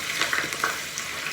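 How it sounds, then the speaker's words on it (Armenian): Wet spinach hits a hot frying pan for a spinach omelette, giving a short burst of close, crackling sizzle with a few sharper pops over an even hiss. "Քանի որ թավան տաքել, սկսեց տշտժալ"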